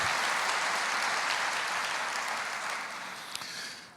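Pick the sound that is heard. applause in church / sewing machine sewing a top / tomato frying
applause in church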